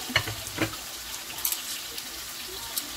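Pieces of steak and ginger cook in oil with a soft, continuous sizzle, broken by a few light clinks and knocks from utensils in a kitchen.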